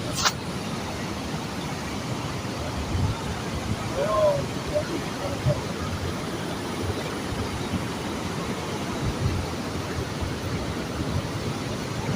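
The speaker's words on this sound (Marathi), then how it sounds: "ते पाण्याचा खूप सारा आवाज आहे" A steady, broad roar of rushing water at Nandur Madhyameshwar dam near Nashik fills the scene without a break; a voice talks faintly under it.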